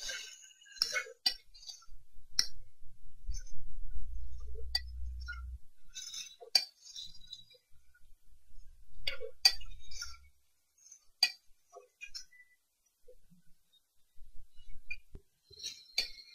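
A spatula stirs green chilli pieces and curry leaves in a pan while mutton masala curry is cooked, making faint, scattered metallic clinks and taps with quiet gaps between them.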